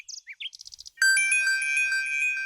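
A mobile phone ringtone starts with a quick series of high chirping beeps, then rings with a steady bright melodic tone that carries on, loud and close, with no voices.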